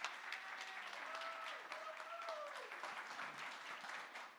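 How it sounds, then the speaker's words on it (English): Applause from a conference audience greets presenters taking the stage, a fairly quiet, even patter of clapping with some tonal feedback or music-like whine running faintly underneath. "Round of applause for Patrick and Varu."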